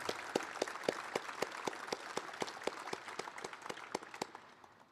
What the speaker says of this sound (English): let's give Kit a big round of applause